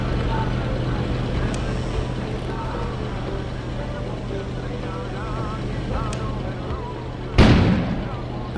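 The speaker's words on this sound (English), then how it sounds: "An explosion suddenly occurred outside." Outside, a single sudden blast erupts in the video game Kona, one sharp boom near the end that breaks a long stretch of quiet, droning ambience.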